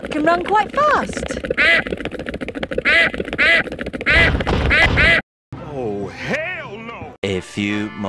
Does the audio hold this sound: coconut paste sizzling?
no